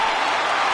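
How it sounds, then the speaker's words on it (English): A stadium crowd roars in a baseball video game, MLB The Show 20, during a Toronto Blue Jays versus Philadelphia Phillies game, a steady loud wash of cheering with no breaks. "listen to this crowd now. They are really into this"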